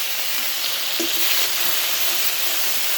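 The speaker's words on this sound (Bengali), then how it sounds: "এখন দিয়ে দিচ্ছি থেতো করা কাঁচা লঙ্কাটা" Crushed green chilies hitting hot mustard oil in a wok, producing a loud, dense, hissing sizzle that stays constant throughout like heavy rain. There is no voice.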